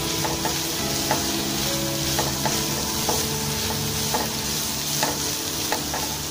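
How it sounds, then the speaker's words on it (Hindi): Onions and chicken frying together in a pan for a chicken cheese lasagna, a soft continuous sizzle with regular light scraping strokes from stirring, no voices. "प्याज हमारी फ्राई हो रही है।"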